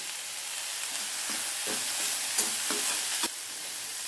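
Broad beans sautéing in oil, with a loud, continuous hiss and sizzle close up and several soft spoon strokes stirring through the pan, no talking.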